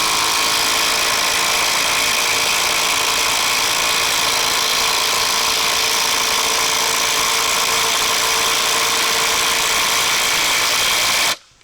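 A Bosch 1800C impact driver runs at its speed 2 setting, giving a loud, steady, unbroken mechanical drone that holds evenly throughout and then cuts off abruptly at the very end.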